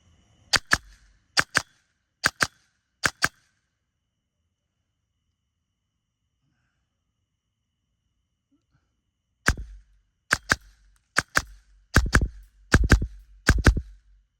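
An airsoft gun is test-fired outdoors at a range of about 50 meters: four sharp, evenly spaced cracks, a long silence, then a faster string of eight or so loud snapping shots.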